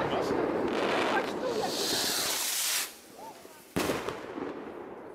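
Firecrackers and fireworks go off in the video game H1Z1 during a New Year's session: loud hissing, crackling bursts that cut out abruptly, then a fresh sharp blast followed by fading sizzle.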